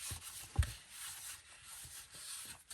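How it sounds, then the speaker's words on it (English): Paper being folded and burnished along score lines for a notepad folio: soft, close rubbing and sliding strokes, faint and quiet, with one small tap or knock near the start and no speech. "So just fold and burnish."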